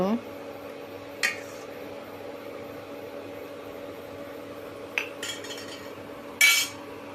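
A spoon stirs rice-flour pitha in a pot, giving three brief metallic clinks and scrapes spaced out over a quiet, steady background hum.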